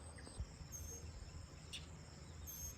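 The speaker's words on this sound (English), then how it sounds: "you can hear the birds, guys. You can hear the birds." Crickets chirring in a continuous high trill outdoors on a farm, fairly faint and steady, with a brief bird note or two faintly in the background.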